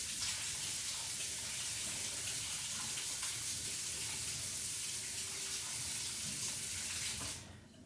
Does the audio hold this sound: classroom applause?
no